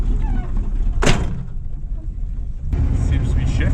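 A 1969 Dodge Charger driving on the road, its low engine and road rumble steady throughout, broken by a brief sharp clunk and a noisier stretch near the end.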